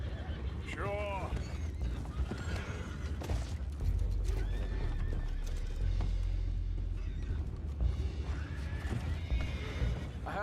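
Horses whinny repeatedly in the video game Red Dead Redemption 2 over a busy backdrop of hooves, creaking and low rumble, with voices talking intermittently in the mix.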